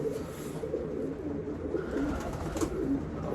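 A racing pigeon in its loft gives soft, low repeated coos close by against quiet room ambience, with no one talking.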